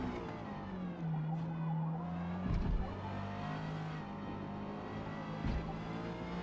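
A Honda S2000 in Forza Motorsport on the C-class Virginia Raceway circuit gives a steady, droning engine tone that rises and falls in pitch, with two brief rougher bursts partway through and no talking.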